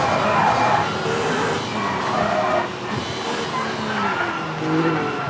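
A rally car engine in the video game V-Rally 4 screams at high revs, rising and falling through gear changes and hitting the rev limit, with a continuous loud roar and some tire noise.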